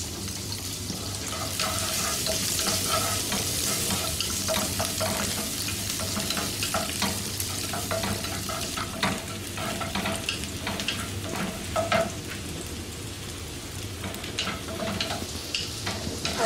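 Three to four large garlic cloves frying in oil, a steady loud sizzle with repeated scraping and clicking from stirring throughout, close up and without speech.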